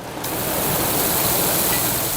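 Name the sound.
cooling fans and water soakers at a dairy farm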